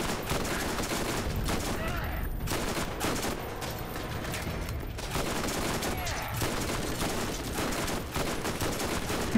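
Automated turret fire in the video game Borderlands rattles in a dense, continuous fusillade throughout, loud and sustained with only brief dips.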